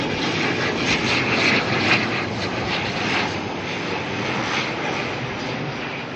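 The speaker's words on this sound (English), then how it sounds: "Spin around though and grab this ATR coming on in." An ATR turboprop arriving to land at Auckland Airport, inbound from Nelson, roars steadily and loudly close by, a broad propeller and engine drone that holds strong throughout without any voices.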